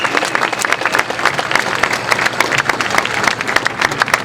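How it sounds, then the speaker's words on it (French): An audience at a French political rally for Florian Philippot applauds the organisers and volunteers, with steady, dense clapping that carries on evenly for several seconds. "On peut les applaudir."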